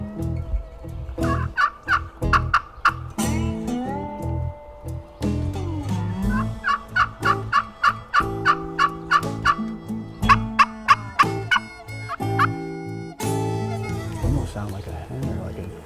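Wild turkey gobbling during a spring ridge hunt, a series of loud rattling gobbles in quick bursts, some close and some farther off, with hunters talking over them.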